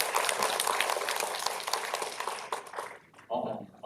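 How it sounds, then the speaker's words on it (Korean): Applause from an academic forum audience welcoming an environmental engineering professor's presentation, a dense steady clatter of many hands that thins and fades toward the end as a voice begins. "큰 박수를 맞아주시기 바랍니다"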